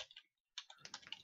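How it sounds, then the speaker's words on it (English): Rapid bursts of typing on a computer keyboard, close and quiet, with a brief pause before a denser run of key clicks. "my typing"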